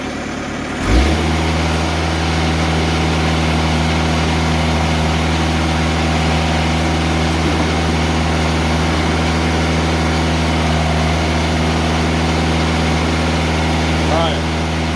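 A sawmill engine runs loud and steady throughout, starting up abruptly after a brief moment and holding a constant droning hum while the log is turned over.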